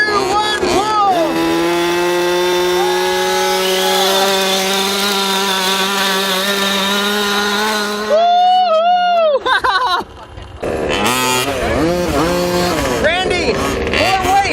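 A gas-powered 1/5 scale RC truck pulls a weight sled, its small two-stroke engine revving loud and close in a sustained whine, then dropping and surging in bursts, with people talking over it.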